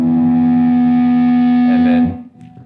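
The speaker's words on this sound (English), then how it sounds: "To start the song, I just have some feedback open up" Sustained electric guitar feedback opening a song, one loud distorted droning tone held for about two seconds before cutting off abruptly into a short decay.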